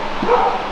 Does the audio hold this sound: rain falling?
no